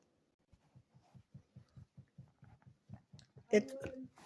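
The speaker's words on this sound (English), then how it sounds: "if you hear me chewing, I'm eating" A person chewing food in short, regular bites, a steady rhythm of soft close mouth sounds, ending with a louder burst of noise.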